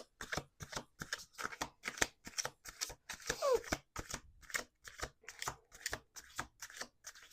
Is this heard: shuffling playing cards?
yes